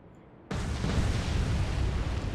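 A torpedo explosion sinking a ship in the naval game Atlantic Fleet breaks out of near silence as a sudden, heavy blast, then continues as a loud, sustained rumbling roar that holds steady to the end.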